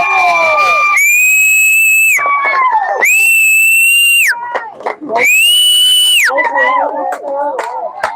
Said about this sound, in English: I'm going to whistle.